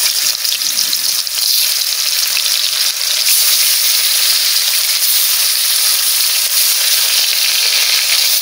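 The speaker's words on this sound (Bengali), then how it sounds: "এই মাছটা একটু লেট হয় ভাজতে" Baus fish frying in a pan gives off a loud, steady sizzle that runs unbroken from start to finish, with no talking.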